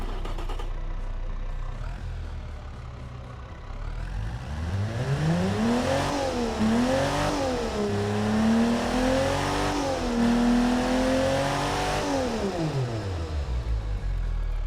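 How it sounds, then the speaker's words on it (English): A 113-horsepower direct-injection car engine running on low-grade 80-octane fuel, idling before revving up and down in several rising and falling sweeps, close and steady with no talk. "And look and listen how the engine will run."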